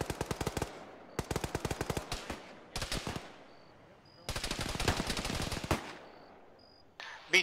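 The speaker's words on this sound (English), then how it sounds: "Would they stop shooting me?" Arma ShackTac video game gunfight: rapid bursts of automatic gunfire crackle in several long strings with short pauses, loud and close, with faint distant shots between bursts.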